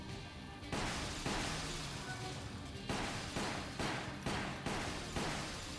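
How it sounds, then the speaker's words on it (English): Rapid gunfire from shooting monitors in the video game Resident Evil: The Umbrella Chronicles, a steady stream of loud repeated shots and bursts with short pauses between volleys, no voices. "Just shooting all the monitors"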